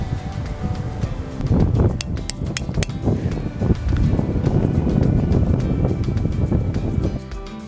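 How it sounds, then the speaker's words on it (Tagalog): Strong wind buffets the microphone at a campsite in Sorsogon in heavy, rumbling gusts, with a few light metallic clinks partway through. "Kasi super lakas na ganong hangin."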